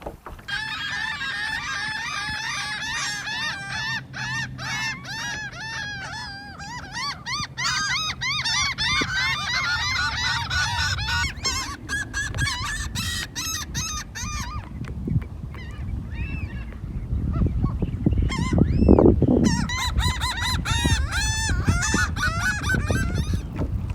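Flock of geese honking together at a state park on Little Talbot Island near Jacksonville, Florida, a dense chorus of calls for the first half that fades into wind and rustling, with no talk.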